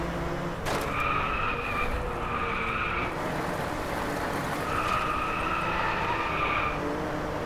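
Car tires squeal in two sustained skids while drifting in the racing game Driveclub, each screech lasting about two seconds over a constant loud engine roar.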